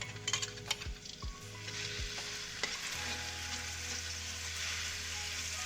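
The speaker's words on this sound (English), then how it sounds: "heat the oil, about 2 tablespoons of oil, and put the chopped garlic" Chopped garlic fries in about two tablespoons of hot oil over medium heat, giving a steady close sizzle that builds after a few sharp utensil taps against the pan.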